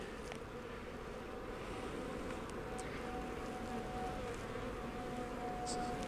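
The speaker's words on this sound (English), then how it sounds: "Most of the bees are right in here." A dense, steady drone of many honeybees buzzing close up inside an opened hive, continuous throughout, with a few faint clicks.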